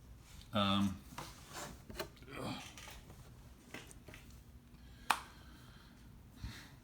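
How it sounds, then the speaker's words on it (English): Hand sanding flaky old resin off a Ra cosplay helmet from Stargate makes soft, irregular rasping rubs with a few brief scrapes and a sharp tap, fairly close and quiet, with some talking mixed in. "that's old flaky little resin bit that had gotten down in there. Sand that bit off."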